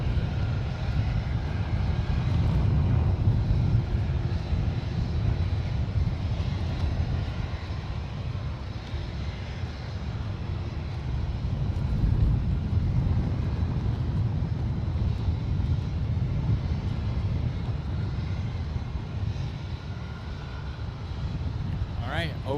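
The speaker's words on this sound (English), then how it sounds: "over on short final right now is United 45 coming from Zurich. This is another 787-9." A United Boeing 787-9 arriving from Zurich on short final at San Francisco makes a low, steady engine rumble that swells and eases gently, with some background noise but no clear talk.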